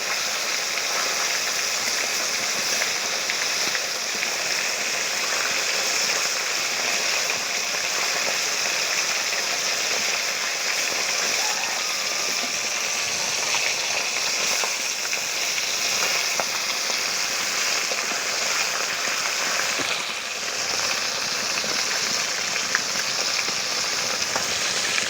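Koi fish fry in hot oil, giving off a constant, even hissing sizzle that carries steadily from start to finish with no pauses.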